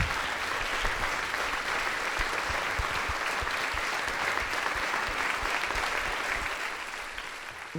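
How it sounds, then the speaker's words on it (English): Steady, full applause from a large live audience at a benefit event, sustained evenly without a break and without any voices over it. "can we have a round of applause for Muwafaq, our translator?"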